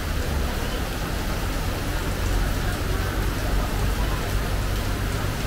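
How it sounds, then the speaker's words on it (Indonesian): Heavy rain pouring down steadily, a dense constant hiss with a low rumble underneath and no pauses. "Lagi hujan deras"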